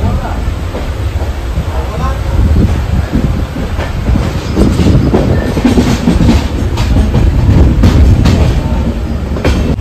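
The Diva-Ratnagiri passenger train rumbles loudly along the rails, heard from inside a near-empty carriage with steady clickety-clack from the wheels and a faint voice speaking under the noise.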